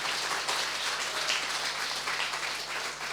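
An audience at an inauguration gathering in Pune claps together in a sustained, dense wash of applause that stays even from start to finish.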